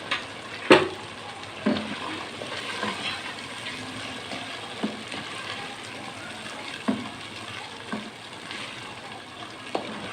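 Boiled chickpeas go into frying masala in a pan for Lahori chana, producing a moderate continuous sizzle broken by a few sharp clatters and spoon knocks at irregular intervals.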